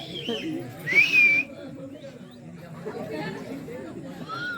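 In the audience at a Tamil folk drama performance, a sharp high whistle rises above a crowd's chatter and babble, lasting about half a second. A fainter whistle follows later.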